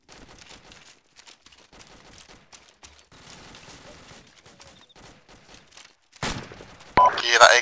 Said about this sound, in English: Can you hear that AK fire out to the west?